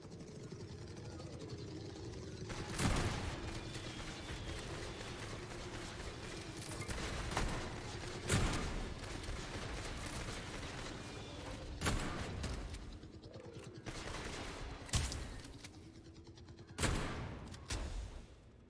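Guns fire in the video game Atomic Heart: sharp, loud shots and short bursts arrive every few seconds over a constant low humming drone.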